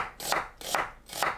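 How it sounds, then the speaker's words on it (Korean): A kitchen knife slices half an onion into thin strips on a cutting board, three crisp, evenly spaced chops heard close up and alone, each with a sharp attack. "양파 절반은 채 썰어주세요."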